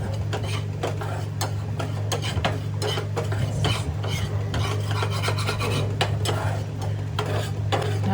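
Ingredients dry-roasted until dark and smoking in a pan, with steady rasping scrapes of a spatula stirring repeatedly against the metal over a constant low hum, close and continuous, no voices.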